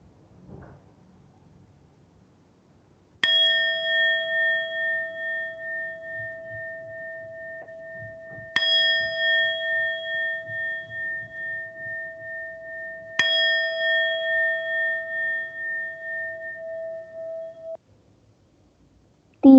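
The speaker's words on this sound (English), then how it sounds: "Let us mark the beginning of the session with the mindfulness bell." A meditation bell is struck three times, each clear ringing tone swelling and fading in slow waves before the next strike, in a quiet room.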